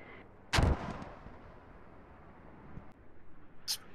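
Mortar fire in the military shooter game Squad: one heavy booming impact early, then quieter distant rumbles and a faint later crack, under low battlefield ambience.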